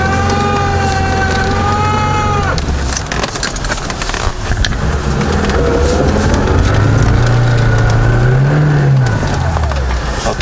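A Niva 4x4 engine revs hard and strains while trying to pull a stuck car free on a slope, loud and close, its pitch rising and falling throughout, with someone talking over it.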